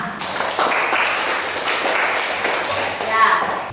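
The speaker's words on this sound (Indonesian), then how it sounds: "Beri aplaus untuk kita semua." A classroom group claps together in a dense, steady burst of applause lasting several seconds, with the clapping swelling slightly near the end.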